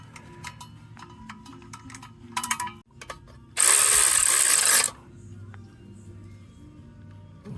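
Flywheel lock being fitted to a T1N Sprinter engine, with rapid ratchet clicks, tool clatter and a loud burst of hissing in the middle.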